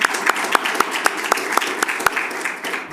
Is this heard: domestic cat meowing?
no